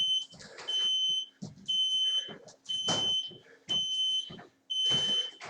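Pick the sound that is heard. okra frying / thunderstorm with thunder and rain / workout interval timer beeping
workout interval timer beeping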